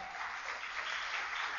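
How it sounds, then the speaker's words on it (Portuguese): A church congregation at a seminar in Itanhaém applauds, a soft, even wash of many hands clapping heard from a distance without distinct individual claps. "Dê uma salva de palmas a Deus."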